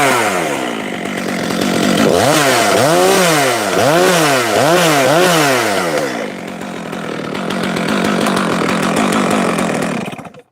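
A chainsaw's engine revs in repeated loud bursts, then drops to a rough, rapid idle, close by with no talking.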